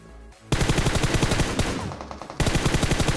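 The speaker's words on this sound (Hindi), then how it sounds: "भाई सामने से और भी खतरनाक फायरिंग आ रही है" Loud, rapid automatic gunfire from the mobile game PUBG Mobile, with M249 and DP-28 machine guns in play: a dense burst of evenly spaced shots, a brief pause, then a second sustained burst, with no talk.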